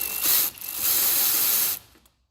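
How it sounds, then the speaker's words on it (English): Ratchet wrench loosening a turbo tube clamp on the intercooler of a Ford F-150 with the 3.5 EcoBoost engine, a close, loud run of rapid metallic clicks that stops abruptly, with no talking. "So I'm going to loosen that clamp off."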